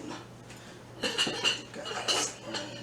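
A spoon picked up from among plates and cutlery in a home kitchen, a short burst of metallic clinks and rattles after a quiet start, close and moderately loud.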